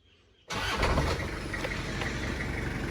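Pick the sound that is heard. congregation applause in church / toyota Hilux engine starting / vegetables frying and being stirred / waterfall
toyota Hilux engine starting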